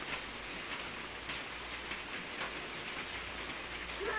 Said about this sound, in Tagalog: Pag ganitong ulan, matagal po ito tumigil.